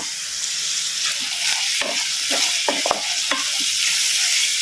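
Four to five medium chopped onions frying in a pan for egg curry, with a steady bright sizzle and irregular soft stirring clicks and scrapes close up, no talking.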